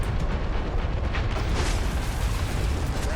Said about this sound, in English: Someone's firing at me. Like a missile's come my way.